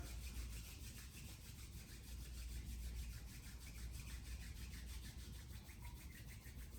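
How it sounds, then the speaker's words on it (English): Palms rubbed together briskly to build heat during a yoga flow, a continuous close, loud swishing friction that stays steady throughout, with no talking. "You can rub the palms together."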